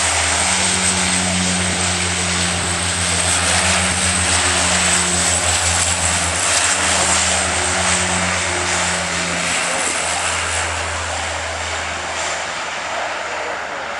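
A Jetstream propeller aircraft rolls for takeoff at the RNAS Culdrose airshow in 2010, its engines giving a loud, steady droning hum with a throbbing low tone that holds, then shifts and eases slightly toward the end.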